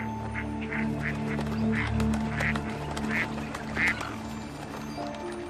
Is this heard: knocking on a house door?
no